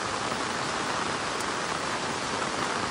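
Heavy monsoon rain pours steadily in Konkan, Maharashtra, a dense, even roar of drops hitting surfaces close by, unbroken and loud throughout with no voices.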